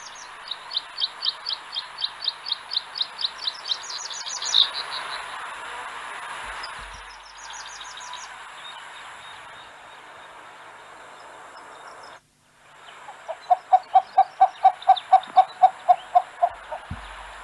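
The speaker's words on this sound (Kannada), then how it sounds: "ಇದರ ಊಕ್ ಊಕ್ ಊಕ್ ಅನ್ನುವಂತಹ ಶಬ್ದವನ್ನ ಹೊರಡಿಸುತ್ತೆ" A Cinnamon Bittern calls in two bursts of rapid, evenly spaced notes, a faster run first and a lower-pitched series after a short pause, with no voices.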